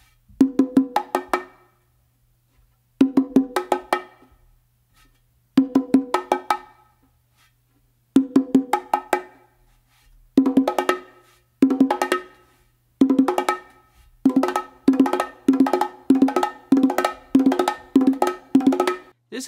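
Bongos played on a stand as a coordination exercise, open tones alternating between the hembra and macho drums: short bursts of crisp hand strikes separated by pauses, growing into a denser, steady run of hits toward the end, close and alone.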